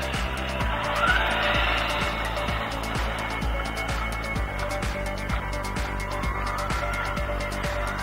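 An ARRMA Raider RC car running on a 6-cell battery gives a steady, loud electric motor whine with repeated tire skids and squeals on the surface, continuous for the whole stretch with no talking.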